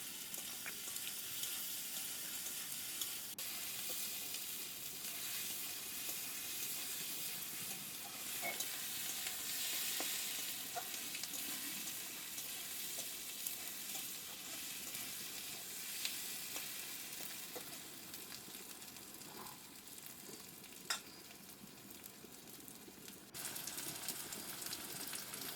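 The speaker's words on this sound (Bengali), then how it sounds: "মশলাটা ভালো করে কষে নেব।" Cumin and black pepper fry in hot oil for a Bengali banana-flower (mochar ghonto) dish: a steady, fairly close sizzle with occasional small crackles and scrapes, running unbroken without talk.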